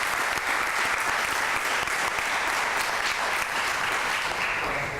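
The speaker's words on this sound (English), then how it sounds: "Can we give them a round of applause for all of the folks who helped us?" An audience at a U.S. naturalization ceremony in Pittsburgh applauds, a dense, even wash of many hands clapping continuously and loudly for the full length, with no talk over it.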